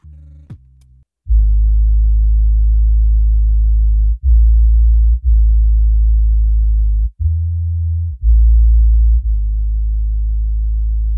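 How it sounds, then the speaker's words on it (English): A deep, clean synth bass recorded on a Boss RC-505 loop station plays long sustained low notes in a looping pattern, with short gaps between phrases, loud and alone. "So, there we have our pretty deep bass line."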